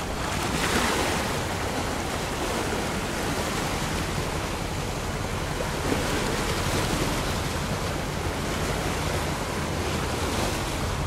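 A large high-speed passenger ferry runs through sea waves off Kien Luong, Kien Giang, in a steady, loud roar of rushing water and wind that fills the whole stretch with no voices.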